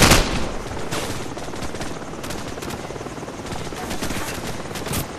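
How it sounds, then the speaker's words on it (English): A helicopter arrives during a Call of Duty Modern Warfare battle, its loud, steady rotor roar filling the scene. Gunfire crackles throughout, and the noise is dense and close from start to finish. "Chopper's in now!"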